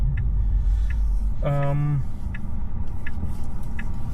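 A 2019 Tesla Model 3 Long Range AWD leaves the highway, a steady low road rumble and tire noise filling the cabin, with a brief tonal chime and faint ticking indicator clicks on top.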